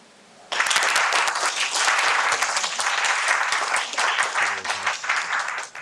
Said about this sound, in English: can I ask my Indian friends to give them a warm applause?